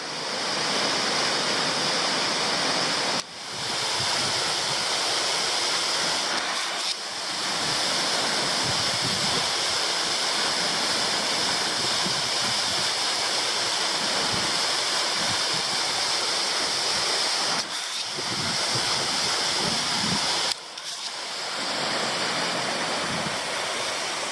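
Meander Falls, a waterfall on a Tasmanian hiking trail, roars as a steady, loud broadband rush of falling water that fills the whole stretch. A few brief dips break the sound, and no one speaks.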